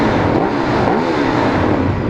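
A 2014 Ducati Streetfighter 848 motorcycle engine revving on a test ride, a loud, close, continuous roar that swells and falls in pitch under steady wind rush, with no talk.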